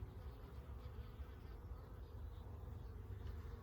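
Honeybees hum in a steady, dense, low buzz during a hive inspection, continuous and fairly quiet, with no voices.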